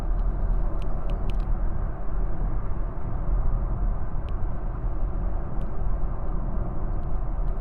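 Steady cabin noise inside a BMW iX3 electric SUV cruising at 110 km/h on an expressway: a constant broadband road and wind rumble, even and unbroken throughout, with only a few faint ticks above it and no voices.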